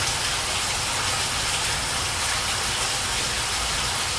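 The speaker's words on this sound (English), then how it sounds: "It's been raining now all for 30, 40 days." Heavy rain pours down in a radio drama sound effect, a dense, steady hiss of falling water with no breaks or voices, loud and constant throughout.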